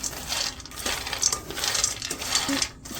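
Cashews and pistachios roast in a pan over low heat while being gently stirred, giving a continuous rattling, clicking scrape of nuts against metal with a light hiss, close and fairly quiet.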